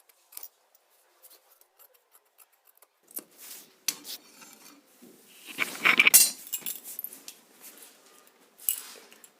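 Scissors snipping through folded kameez fabric, a series of close, crisp metallic cuts and rubbing clicks, sparse at first and then busier, with no talking.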